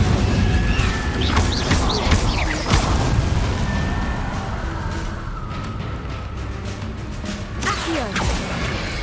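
Incendio fire spell being cast in Hogwarts Legacy while exploring the Forbidden Forest, a dense, crackling magical burst with whooshes and impacts layered over busy game ambience.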